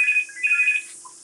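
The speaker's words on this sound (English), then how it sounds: "Oh, here we go. The phone is ringing." A telephone rings up close with a bright electronic warble, two quick trilling bursts followed by a fading tail, loud and alone with nothing else audible.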